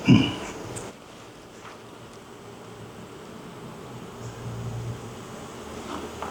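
A soft, continuous buzz of many honeybees fanning, steady and low, with a brief rustle at the start.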